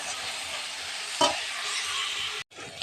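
Potatoes frying in a pan give a bright, even hiss while a spatula scrapes through them once, then the sizzle cuts out briefly and resumes; close and fairly quiet, with no voices.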